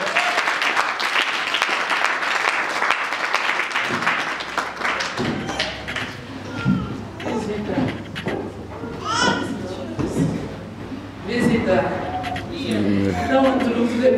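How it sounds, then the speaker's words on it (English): A church congregation claps in a lively, loud burst for a few seconds, then the clapping fades as a voice speaks and children's chatter and scattered sounds continue in the room. "Clap for Jesus Christ."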